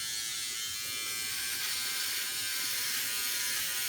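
A Philips Norelco OneBlade electric razor buzzes steadily at close range during a wet shave with shaving cream, a constant high whine layered over faint scratchy cutting texture.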